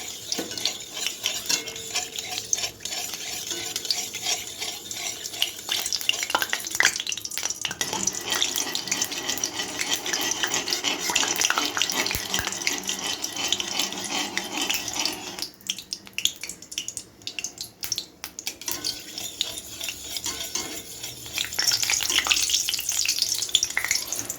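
Sugar melting in hot oil in a pan and turning red for a chicken curry with goat fat, sizzling and frying steadily while a spoon stirs and scrapes, with a brief quieter stretch partway through.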